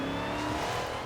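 Short burst of a race car engine in a racing video game, loud and steady with a slight pitch shift as a gear changes, no voices.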